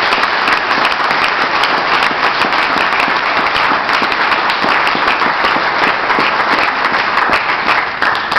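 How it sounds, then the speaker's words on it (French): Loud, sustained clapping from an assembled club audience honoring the outgoing president at a collar handover ceremony, dense and close, with a steady rhythm of many hands and no talk. "écoute nos applaudissements."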